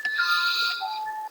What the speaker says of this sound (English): I think we can hear your wind chimes.